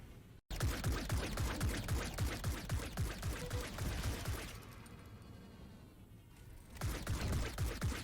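Rapid, continuous rattling bursts of projectile weapon fire in the video game Star Atlas, dense and mechanical, pause briefly into a quieter hum before the firing resumes.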